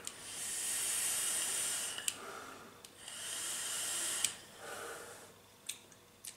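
Long soft hissing exhalations of e-cigarette vapour from a tobacco-flavoured liquid, two broad breathy puffs with faint clicks and rustles between them, close and quiet with no talk.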